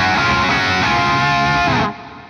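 Distorted, palm-muted electric guitar riff, a dense driving chug played alone at close range before it cuts off into a fading ring.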